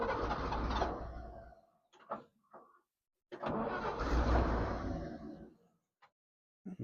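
A 1955 International R160 dump truck engine cranks over in two long, loud grinding bursts separated by short clicks and silence, close by with no talking.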